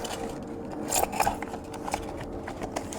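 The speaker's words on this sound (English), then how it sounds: "then we're gonna cut this bit off" Scissors snip through a bicycle tire during an e-bike conversion, giving a few short crisp cutting crunches close by, with a soft rustle in between.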